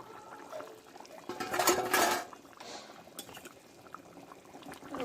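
A lid comes off a pot of simmering mutton curry with potatoes, making a brief metallic clink and clatter. Soft bubbling and liquid sounds follow at low volume, with no talking.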